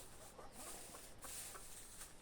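Hens cluck softly in a backyard flock, with a broody duck nearby trying to sit on a nest; the short, scattered clucks come through faint and close over steady background hiss.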